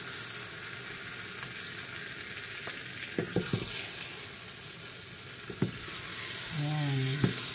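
Biko, a sticky rice cake with jackfruit and latik, sizzles steadily in a pan while it is stirred, with a few soft scraping knocks mid-way and a brief voice near the end.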